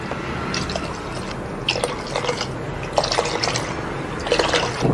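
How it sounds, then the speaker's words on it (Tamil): Hot water pours into a pot for Ambur mutton biryani, a steady trickling and dripping with splashy bursts running throughout at moderate loudness. "இப்போ மீதி 4 கிளாஸ் அளவுக்கு ஹாட் வாட்டர் சேர்த்துக்கலாம்."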